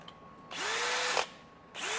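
A power drill whirs loudly for under a second, stops abruptly, then spins up again, with a rising pitch as it starts each time.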